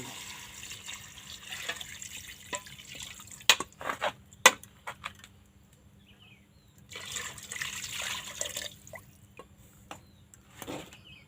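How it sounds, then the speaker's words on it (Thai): Water trickles and splashes into a pot being filled for a Thai boiled pork bone broth, soft intermittent pouring with a few sharper splashes, fairly close and quiet against a low background hum. "ใส่น้ำไปเลย"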